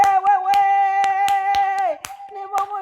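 A church congregation claps hands in a steady rhythm, sharp claps roughly every half second beneath a sustained sung voice.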